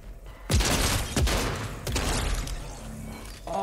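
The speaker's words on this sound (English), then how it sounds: "Oh, that was a Ranger shotgun there." Ranger shotgun blasts in the game Tilted Wars, a couple of loud close booms with sharp onsets at about half a second and just past one second, then a sustained rumbling clatter of further fire, no voices.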